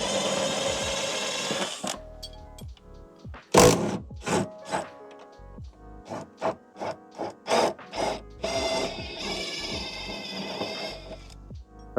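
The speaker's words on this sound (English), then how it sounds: "It's a little wrench trick here." A wrench works the subframe brace hardware on a 1992 Acura Integra GSR, giving close, irregular bursts of short ratcheting clicks and metallic scrapes separated by brief pauses.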